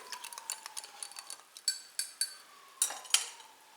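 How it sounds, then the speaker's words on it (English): Whisk clinking rapidly against a bowl while cornstarch is mixed into orange juice for a slurry, a quiet run of light metallic taps and scrapes with no talking. "whisk it together to make a smooth slurry"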